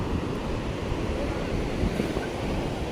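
Waves wash onto Podu beach in a steady, close roar of surf mixed with wind buffeting the microphone, with no clear breaks between them.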